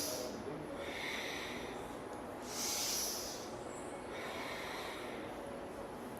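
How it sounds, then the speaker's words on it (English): Steady rhythmic breathing through the nose during Kundalini yoga, repeated sharp hissing inhales and exhales at a regular pace, close and fairly loud. "Inhale up, exhale down."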